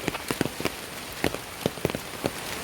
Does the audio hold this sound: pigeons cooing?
no